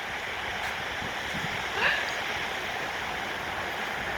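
Sea waves wash along the shore at Colwyn Bay in a soft, continuous rush mixed with wind noise. There is one brief swell midway.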